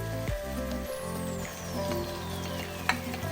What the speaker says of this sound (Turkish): Rendelediğim domateslerimi de ekliyorum.